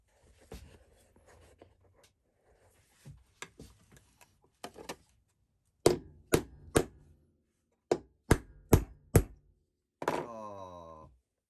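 A small hammer taps a metal depth stop into a Record No 44 plough plane. Sharp, close knocks come singly and in quick clusters, growing louder toward the end, before a brief ringing tone.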